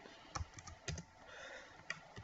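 Keys clatter on a computer keyboard during a networking lesson on IPv6 EIGRP router setup, a few scattered quiet clicks over a faint background hiss with no talk.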